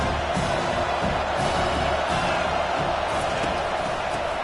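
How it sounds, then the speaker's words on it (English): A home stadium crowd roaring in an NCAA football video game matchup against Notre Dame, a dense, steady wall of cheering that stays loud throughout with no break. "how nice is it to have the home crowd going absolutely bananas?"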